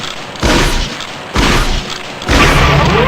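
A shotgun fires three loud, booming blasts at a target on a training range in Gunman Chronicles, evenly spaced about a second apart, each one close and heavy.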